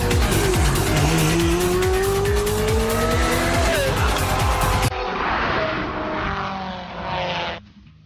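A Pagani Zonda F supercar drives by with a loud, high engine roar, rising revs and tire squeal, then a muffled stretch with the engine fading out.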